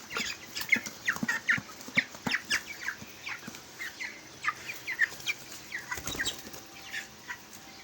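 Broiler chickens about 23 days old cluck and squawk in short, repeated bursts after being weighed and let go, fairly close and loud, with occasional wing flutters and no talking.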